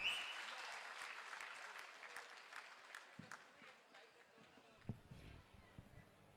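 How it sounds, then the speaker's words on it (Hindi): Audience applause welcoming poet Nilotpal Mrinal onto the stage inside a state legislative assembly complex, a broad steady clapping that slowly thins and fades, with a few louder claps near the end. "सबसे ज्यादा तालियों के साथ उसे स्वीकार कीजिएगा"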